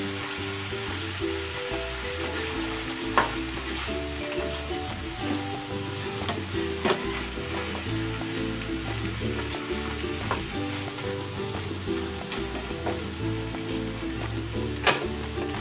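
Fried eggplant sizzles steadily in a frying pan, a continuous fine crackle close to the listener, with occasional clinks and stirring sounds.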